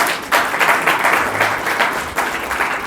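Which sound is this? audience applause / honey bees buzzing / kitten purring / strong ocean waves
audience applause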